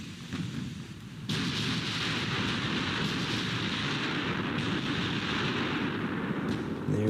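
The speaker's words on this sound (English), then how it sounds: "There's an incoming salvo" Naval artillery salvo in Ultimate Admiral: Dreadnoughts, a Denmark Strait battle between Bismarck and Prince of Wales with 14-inch shells: a deep, sustained rumbling roar that swells abruptly after a quiet second and stays loud to the end, with no talk.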